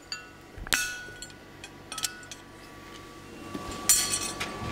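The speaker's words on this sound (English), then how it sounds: "I can come in with my chisel, drive it in nice and deep" A hammer driving a blacksmith's chisel into hot metal while forging a tie bar gives a few sharp metallic strikes, irregularly spaced and with ringing tails, against a quiet workshop background.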